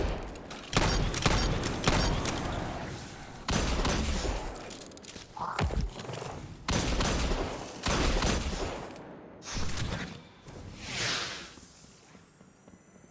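Destiny 2 combat in a Legend lost sector, with rapid gunfire bursts, whooshes and a grenade blast as enemies and an Overlord champion are engaged. Loud, repeated volleys end in a trailing swoosh.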